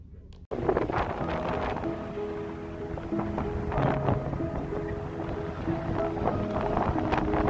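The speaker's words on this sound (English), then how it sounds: "we're driving on a sandy dirt road to get out to Peekaboo Canyon. And it is washboardy." A vehicle driving on a rough, washboardy sandy dirt road near Peekaboo Canyon: continuous loud rumbling road and engine noise with rattling jolts and wind buffeting, starting abruptly after a brief quiet moment.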